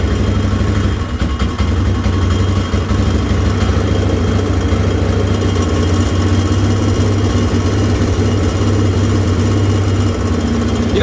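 A Polaris Sportsman 500 ATV engine runs steadily up close, a loud, continuous low idle drone with mechanical vibration and no talking.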